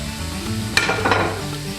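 Floured chunks of wild boar meat hit a hot pot for stew, a sudden sharp splash giving way to a steady loud sizzle with a second burst just after, close up and without talk.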